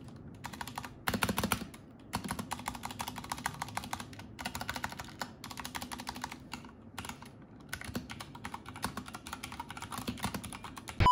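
Fast typing on a mechanical computer keyboard, dense close clicking with short pauses, continuing alone for about eleven seconds.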